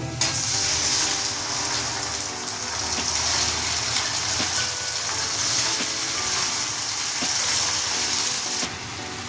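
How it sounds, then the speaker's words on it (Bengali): A paste of tomato, onion, ginger, garlic and green chilli fries in hot oil in a pan, a loud, steady crackling sizzle with occasional sharp pops and scrapes, continuous and close. "পেস্টের মধ্যে আছে 4টে ছোট ছোট টমেটো, 2টো পেঁয়াজ, আদা, রসুন, কাঁচা লঙ্কা। এটা ঢেলে কষিয়ে নেব।"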